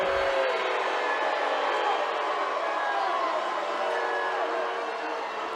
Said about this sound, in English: by the sounds of the crowd here, you can tell what the Harding faithful felt about that call